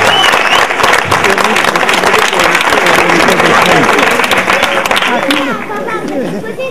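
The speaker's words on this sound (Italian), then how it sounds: "Un applauso per voi!" Crowd applause at an outdoor carnival masquerade performance in San Leucio del Sannio, loud clapping mixed with lively cheering and chatter, easing slightly toward the end as voices continue.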